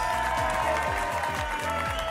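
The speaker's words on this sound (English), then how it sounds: "Oh, it's clap." A short burst of crowd clapping and applause plays as a sound effect, dense and continuous for about two seconds at steady loudness.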